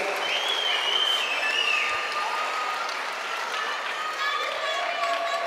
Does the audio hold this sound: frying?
no